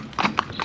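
Hooves of two young horses in soft rubber bits clip-clop in a short, close burst of several quick hoofbeats.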